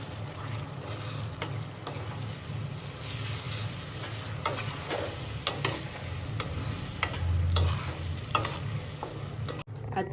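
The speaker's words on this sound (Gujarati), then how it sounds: "અને પછી નાખી દઈશું ટમેટાની આ પ્યુરી." Tomato puree sizzling in a hot pan with turmeric for a green tuvar (pigeon pea) dish, a steady loud frying hiss with repeated clicks and scrapes of a spoon stirring.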